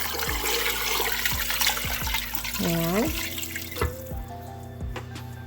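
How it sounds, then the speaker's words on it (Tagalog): Water runs from a tap into a pressure cooker holding cow trotters, a steady watery rush with repeated knocks and clanks of metal; a voice speaks briefly over it. "Lagyan natin ng tubig."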